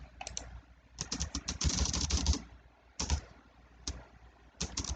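Bursts of fast typing on a computer keyboard, close and fairly quiet, with clusters of rapid key clicks separated by short pauses.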